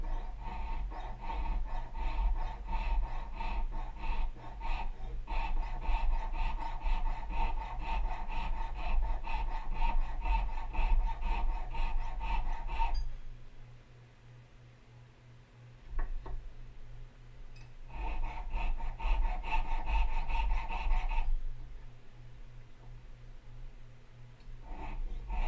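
A tiny jeweler's saw blade cuts through metal along a marked line at a jewelry bench, rasping in quick, rhythmic strokes, with a pause partway through before the sawing starts again.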